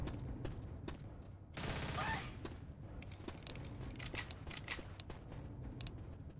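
Rapid gunfire in Left 4 Dead inside a Naniwa City shopping mall, faint bursts of sharp shots and a short loud volley, scattered across a quiet game background with no talk.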